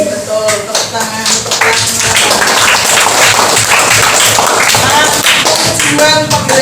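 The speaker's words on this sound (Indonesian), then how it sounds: "Betul, tepuk tangan." A class of schoolchildren claps together, a dense burst of hand claps and taps filling the room, with voices mixed in throughout.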